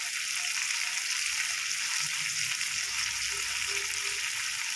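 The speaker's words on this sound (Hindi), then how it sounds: "अब इन सबको भून लेते हैं" Spice powders, coriander, red chilli and black pepper, sizzle while roasting in a pan for a fasting-day potato curry, a steady close hiss of frying without pause.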